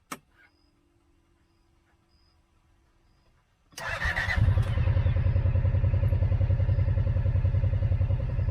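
A Kawasaki Teryx UTV engine is switched off, leaving a faint clicking lull, then cranks and restarts into a loud, steady, close idle with a low rumble.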